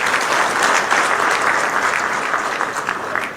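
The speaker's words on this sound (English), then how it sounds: "can you clap for Equity Bank?" An audience at a county investment forum claps for a sponsor, a loud dense burst of applause sustained for a few seconds and easing slightly at the close, with no speech over it.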